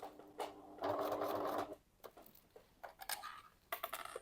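Domestic sewing machine stitching forward along a small fabric rectangle for a coin purse, bursts of mechanical whirring separated by short pauses and clicks, close and fairly loud.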